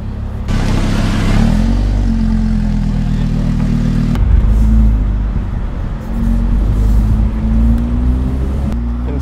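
Lamborghini Huracan Spyder V10 in sport mode, the engine and exhaust loud and close, revving up and settling in a few distinct pulls, deep droning tones shifting in pitch between bursts, with no talk.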